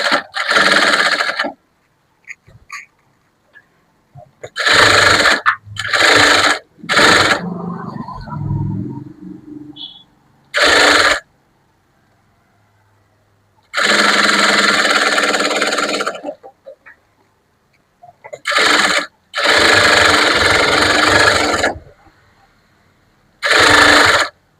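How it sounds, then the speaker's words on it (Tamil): Sewing machine stitching the lining of a high puff sleeve, running in loud bursts of a few seconds each with short pauses between, plus faint handling noises in the gaps. "நீங்க லைனிங்ல தையல் போடுங்க"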